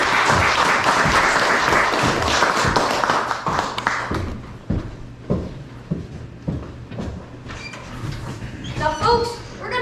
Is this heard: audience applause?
yes